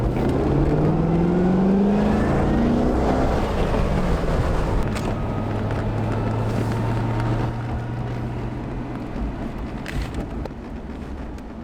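A classic car out on a test drive, heard from inside or alongside as steady engine drone and shifting tones, with rushing wind noise over everything that slowly fades toward the end; no one speaks.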